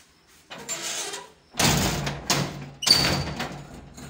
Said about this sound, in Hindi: ये जी दरवाज़ा है, ये ऐसा इसी तरह से बंद होता है तो आवाज़ बहुत ज़्यादा देता है।